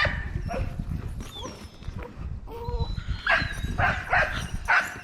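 Puppies whimper and yip in high, thin cries, with a few short barks, close by over a low rumbling background.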